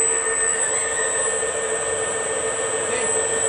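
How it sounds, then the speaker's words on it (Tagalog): Electric fan motor powered by a 220-volt generator at a control panel box, a steady loud whirring drone with sustained tonal hum, constant and unchanging throughout with no talk. "So the fan motor is running."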